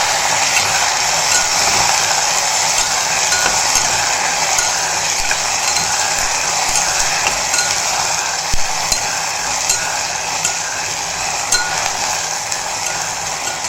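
Okra, tomato and green chili frying in a cast-iron uruli, a loud, steady, dense sizzle with occasional stirring scrapes, continuous throughout and no talking.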